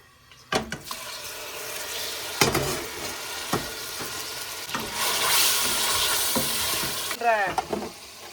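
Chicken pieces drop into hot oil in a home kitchen pan and sizzle steadily, broken by several sharp clatters and stirring knocks, with a louder hiss near the end.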